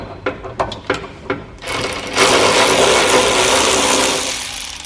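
A few sharp metallic taps knock the cotter pin nut loose from the drive shaft of a Scott Bonnar 20-inch Unicorn mower, followed by a louder sustained mechanical rattle and grind.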